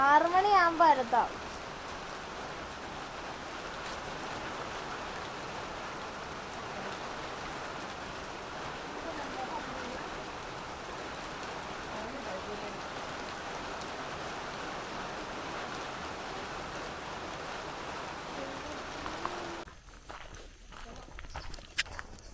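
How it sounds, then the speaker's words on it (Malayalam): Light drizzling rain at a rural home, a soft, even hiss that runs steadily for about twenty seconds after a brief louder burst at the start, then stops abruptly near the end. "ചാറ്റൽ മഴയാണല്ലോ ഇന്നൊക്കെ."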